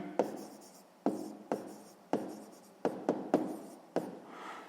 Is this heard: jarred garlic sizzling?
no